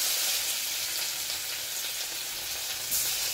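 Ginger and garlic fry in hot oil for pepper chicken, making a constant, bright sizzling hiss at moderate volume with no pauses.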